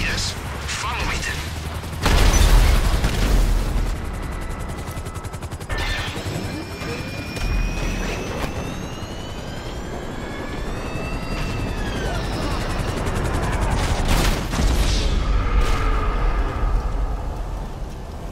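A Merryweather helicopter flying in the video game GTA, its rotor thrum steady and fairly close throughout, mixed with game effects, bursts of noise and whistling tones.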